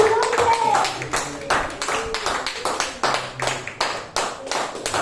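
Church congregation clapping hands during a Spanish-language worship service, steady rhythmic claps in unison over a loud background with singing or talk mixed in.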